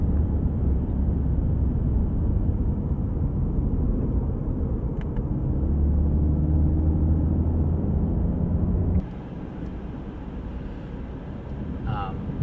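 Subaru Outback engine rumbling under acceleration, heard as a steady, loud, low drone from inside the cabin that drops to a quieter level partway through.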